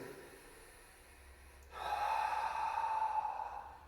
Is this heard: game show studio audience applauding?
no